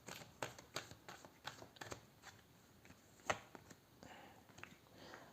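Tarot cards shuffled and drawn by hand, a quick run of crisp riffling flicks and soft slides, fairly close and quiet, with no one talking.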